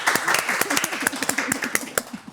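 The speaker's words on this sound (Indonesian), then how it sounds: "Tepuk tangan." An audience claps for a police vocal group, a steady patter of many hands close by, with a voice talking underneath.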